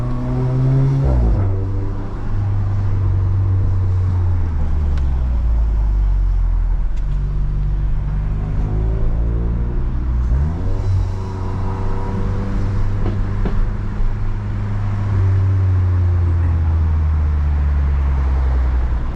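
Loud Mk7.5 Golf R with a modified exhaust driven on small roads around Boston, its engine droning and rising and falling through shifts, with deep exhaust rumble continuous and close from inside the car.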